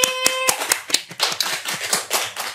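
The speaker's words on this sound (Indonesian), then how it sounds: "Tepuk tangan dulu dong Bang Diki." A small group clapping at a talk-show taping, with a quick burst of crisp, close handclaps over about two and a half seconds and no voices.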